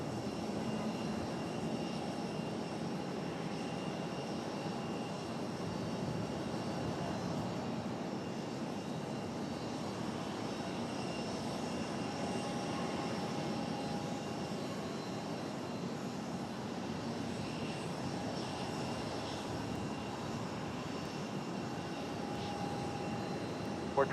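A United Boeing 737-700 at Raleigh-Durham airport gives off a steady, distant jet engine roar that holds evenly for the whole stretch, with no voices over it.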